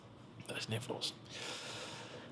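Several quick, wet nasal sniffs in a row, close and fairly quiet, followed by a soft breathy hiss.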